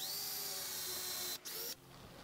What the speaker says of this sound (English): drill the 2 spots that you just marked.